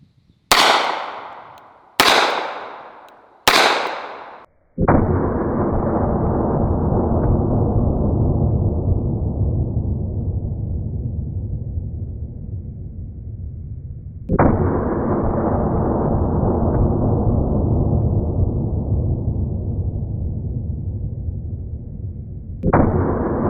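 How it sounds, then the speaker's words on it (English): Three sharp, loud gunshots from a .500 Smith & Wesson Special revolver crack in quick succession, each decaying fast, followed by long ringing booms and reverberant rumbles; no voices. "I'm going to take 3 shots with the Special and the Magnum cartridge and see if we can tell a difference."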